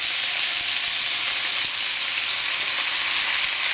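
Soy sauce hitting a hot pan of frying pancit bato, a loud, dense, continuous sizzle with a few faint stirring taps underneath, close and without speech.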